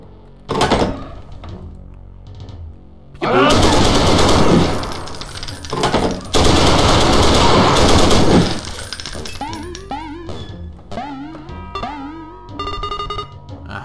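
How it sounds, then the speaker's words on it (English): An MG42 machine gun fires in a Wolfenstein castle escape, with two loud sustained bursts of rapid automatic fire, some clanks and impacts between them, and scattered game effects afterward. "I like MG42."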